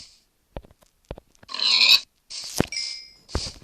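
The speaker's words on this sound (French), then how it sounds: "Oh là, des cochons." Pigs in Minecraft grunt and oink in a few short bursts, with light taps and steps in between, near and distinct, with no voices.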